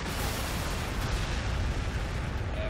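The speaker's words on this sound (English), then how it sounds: "We're going to do the whole danger close whirlwind missiles." Whirlwind missile barrage in the Warhammer 40,000: Sanctus Reach video game, a dense continuous roar of explosions and rumbling blasts, loud and sustained throughout with no pauses.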